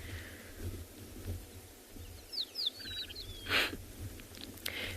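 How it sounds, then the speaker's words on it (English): A rattling cisticola sings on a sunrise safari, a few short whistled chirps followed by a quick dry rattle, faint and somewhat distant over low ambient rumble. "So this is the rattling cisticola"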